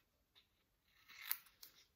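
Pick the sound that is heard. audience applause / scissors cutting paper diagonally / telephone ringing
scissors cutting paper diagonally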